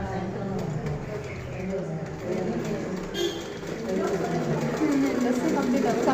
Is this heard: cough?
no